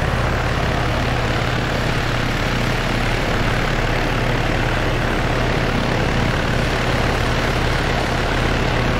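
Steady, loud drone of an aircraft engine in the video game Arma 3, an unbroken propeller-like hum that holds at an even level throughout with no voices.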